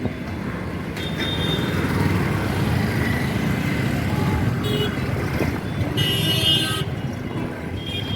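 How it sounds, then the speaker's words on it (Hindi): Street traffic flows in front of Hawa Mahal in Jaipur, a steady wash of engines and road noise with scattered horn toots. The honking is most noticeable late in the stretch. Nobody speaks. "राजस्थान का ट्रैफिक"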